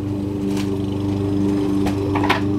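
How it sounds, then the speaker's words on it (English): A neighbor's lawn mower drones steadily throughout at moderate distance, its engine hum constant and unbroken, with a couple of faint clicks over it. "My neighbor's mowing his yard still"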